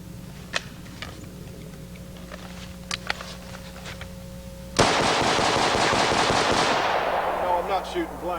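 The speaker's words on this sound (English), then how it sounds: "Let's just show again what these battle rifles are capable of." Battle rifles loaded with full metal jacket ammunition fire a sudden long rapid burst of loud, close gunshots, preceded by a few scattered mechanical clicks and handling noises, with shots continuing and echoing before tapering off.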